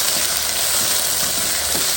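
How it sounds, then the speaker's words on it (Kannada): Okra frying in a spice tempering of oil gives a dense, even sizzle with faint stirring scrapes, close and constant over two seconds. "ಒಗ್ಗರಣೆ ಹಾಕ್ಕೊಂಡ್ಬಿಟ್ಟು ಅದಕ್ಕೆ ಬೆಂಡೆಕಾಯಿ ಹಾಕಿ ಇಲ್ಲಿ ಚೆನ್ನಾಗಿ ಹುರ್ಕೊಳ್ತಾ ಇದ್ದಾರೆ."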